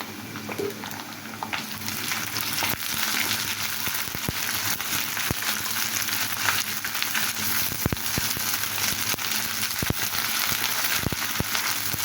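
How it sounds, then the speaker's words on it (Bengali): Ginger garlic paste sizzles and crackles steadily in a hot pan for rui fish curry, a dense, even frying hiss with scattered sharp pops throughout. "আদা রসুনটা ভালোভাবে ভেজে নিচ্ছি।"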